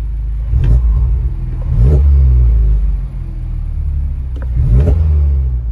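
A Honda Civic Type R fitted with a big bore throttle body revs loudly and close, its engine rumbling deep and swelling in several throttle blips while cruising, with no talk.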